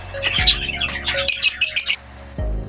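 A pet bird feeds its chicks amid close, loud squawks and a rapid cluster of high chirps, ending with a short pause and a low thump.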